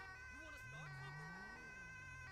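A Bavarian police car siren sweeps up and down in pitch over a steady background hum, fairly faint and continuous throughout.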